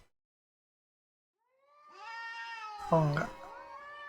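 A winged cat monster in A Space For The Unbound lets out a rising, drawn-out meow that swells into a louder wail near the end, with a person speaking briefly over it.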